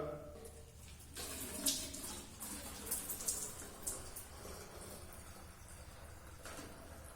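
Water pours into a container pierced with holes at the same height on opposite sides during a school science demonstration, a splashing, gurgling flow that swells and fades while a person talks over it.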